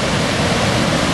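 A mountain stream on the Manimahesh Kailash trek rushes past near an old broken bridge. The water is a loud, constant, close roar of flow with no other sounds.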